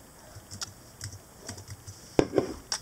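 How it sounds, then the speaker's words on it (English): Keys clatter on a computer keyboard in a run of light, irregular taps, ending with a few louder, sharper strikes, close by and with no talking. "What are you typing?"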